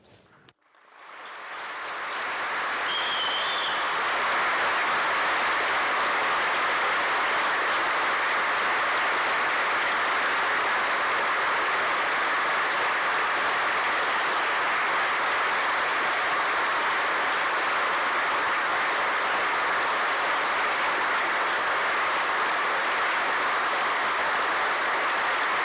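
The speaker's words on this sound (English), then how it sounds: "we're going to stand up and we're going to give him a moment of applause" Sustained applause from a standing audience fills the Senate chamber, rising quickly after a quiet start into a dense, even wash of clapping that holds steady for over twenty seconds.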